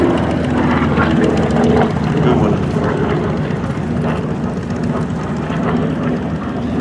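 A P-47 Thunderbolt fighter flies at a Duxford airshow, its loud continuous piston-engine drone filling the air while a commentator talks over it.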